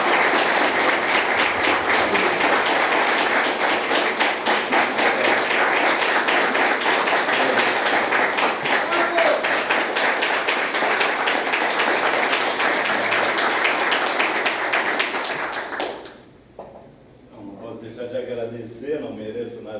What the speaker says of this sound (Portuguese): Eu queria que nós fizéssemos uma salva de palmas para o Dr.